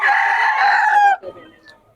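A single loud rooster crow rings out close by, drawn out for about a second before cutting off, followed by faint clucking.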